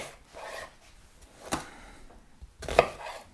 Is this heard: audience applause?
no